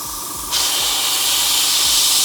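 An airbrush spraying paint onto a miniature gives a steady, close airy hiss that starts softer, then jumps louder after a short moment and holds continuously, with faint low ticks underneath.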